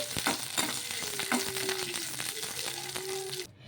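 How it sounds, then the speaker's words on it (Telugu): Green chilies and tamarind fry in a pan on a gas stove, giving a loud, continuous close sizzle with scraping stirring strokes that stop abruptly near the end; no one speaks. "ఇలా పచ్చిమిర్చి కొంచెం మగ్గిన తర్వాత ఇందులోకి కొంచెం చింతపండు కూడా వేసేసుకుందాము వేసుకొని ఒకసారి బాగా కలిపేసుకోవాలి"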